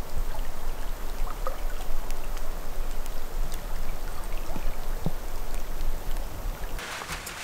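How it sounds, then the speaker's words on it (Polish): Steady rain falls outdoors along a hiking route in Norway, a continuous close wash of drops and patter without a break, with a brief brighter hiss near the end. "Rozpadało się niestety."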